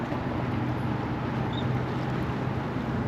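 A sailboat passes beneath a bridge, heard as a steady, loud broadband rush of wind and water with a low rumble throughout, no talking.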